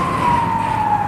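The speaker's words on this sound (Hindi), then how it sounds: "सायरन लगातार उसका सायरन बजता रहता है" An ambulance siren holds one loud, steady, piercing tone that drifts slightly lower over a brief moment, with road rumble underneath.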